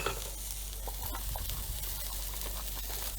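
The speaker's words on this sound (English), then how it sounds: "I've just diced about one red onion that's diced and 1 clove of garlic. Just move it around a little bit." Diced red onion and one clove of garlic sizzle steadily in a hot pan, the frying crackle continuous across the whole stretch, with soft scraping as the pieces are stirred and moved around.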